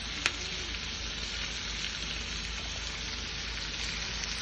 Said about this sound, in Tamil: சும்மா லேசா வதக்கிண்டா போறோம், வாசனைக்கு தான்